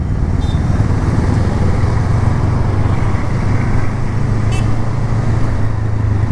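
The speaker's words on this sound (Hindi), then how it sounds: "पूरे ऑफिस जाने वालों का ट्रैफिक है ये," Dense office-commute road traffic in Pune, India, makes a continuous, loud roar of engines and tyres that stays steady throughout, with a couple of brief higher tones cutting through.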